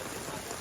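Heavy rain pours down during an outdoor cricket game, a dense, even hiss of drops on the ground with no pauses in the short stretch.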